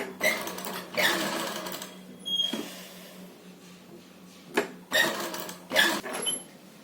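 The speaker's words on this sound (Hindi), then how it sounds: "अब बिल्कुल बुकरम के साथ साथ एक स्टिच कर दो यहाँ से यहाँ तक" Short bursts of a sewing machine stitching fabric along a buckram edge for a one-piece dress, several quick runs separated by quiet gaps, heard up close.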